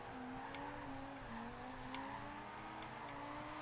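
Donkervoort sports car drifting in Forza Horizon 2, a steady engine drone with rising and falling harmonic pitch and faint tire squeal layered over continuous game ambience, no voices.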